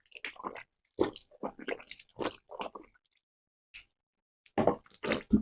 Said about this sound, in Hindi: अब आपको जो है कुल्ली कर लेना है।